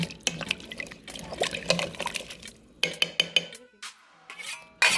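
A spoon clanks and scrapes inside a pot of leftover soup with garlic and a ham bone, sloshing liquid between bursts of sharp metal taps, with a few isolated clinks near the end.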